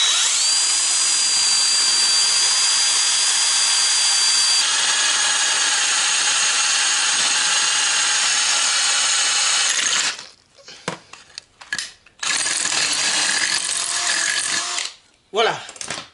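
A power drill runs loud and steady for about ten seconds with a thin whine, then cuts out and restarts in a few short bursts, drilling during rear axle reassembly on a Citroën Traction 11B.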